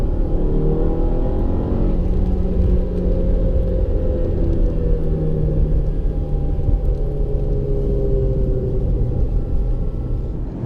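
A 2015 Volkswagen Passat Wolfsburg Edition with a 170-horsepower turbo engine accelerates, its steady low rumble and rising engine tones heard from inside the cabin, loud and continuous with no talk.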